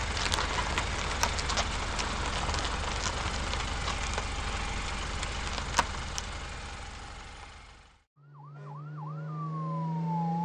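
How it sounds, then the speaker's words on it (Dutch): Wailing ambulance siren with a rising and falling yelp, loud and close, rising after a steady rumble of passing traffic and fading in near the end. "Ambulance."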